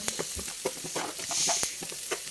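Vegetables for masala upma being stirred in a pan, with light sizzling under a run of soft scraping strokes, close and moderately quiet.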